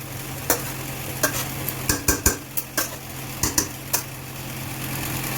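Garlic fries lightly in a wok for amla pickle under a soft steady sizzle, punctuated by about a dozen sharp spatula knocks and scrapes against the metal at an uneven rhythm.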